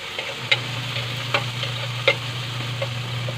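Sardines in their sauce sizzle steadily in a frying pan while a utensil stirs them, giving a few sharp scraping clinks over the constant crackle, close up.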